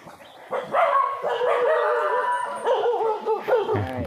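A dog near a forest settlement barks and then breaks into a long, drawn-out howl, loud and close, with a few short yips near the end and no talking.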